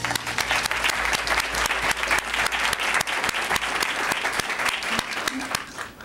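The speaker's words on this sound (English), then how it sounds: "Give Anne Wu a round of applause." An awards ceremony audience gives volunteer Anne Wu a round of applause, a loud, sustained burst of many hands clapping that fills the hall and tapers slightly at the end.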